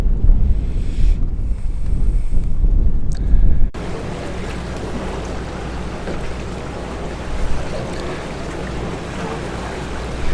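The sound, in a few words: wind on a sailing boat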